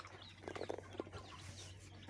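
Soft peeping and clucking from small chicks, faint and close, a few quick calls over a low steady hum.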